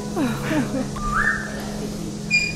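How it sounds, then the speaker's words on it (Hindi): A pet parrot whistles with short rising and falling chirps followed by a longer sustained tone, close and clear over a steady low hum. "सीटी मार रहा है।"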